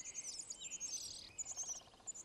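Several birds sing and chirp in the forest of Shenandoah National Park, a steady, faint chorus of high, bright calls with overlapping trills, heard alone and at a distance.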